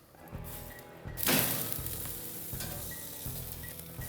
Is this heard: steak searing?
yes